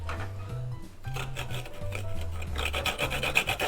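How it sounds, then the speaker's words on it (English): A fresh wasabi root is grated in repeated rasping strokes, a close, steady scraping rhythm with a low tonal hum underneath. "now we can grate the wasabi"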